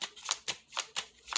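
Tarot cards are shuffled in a quick series of about five crisp riffling bursts, close and clear, with no talking over them.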